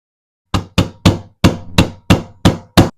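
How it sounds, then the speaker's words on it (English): A hammer taps a roll pin punch eight times in a steady rhythm, sharp close metallic strikes with short decays, driving a pin into a Walther PDP pistol frame with a brass backstrap and magwell fitted. "We'll give it a couple of taps and see how it goes."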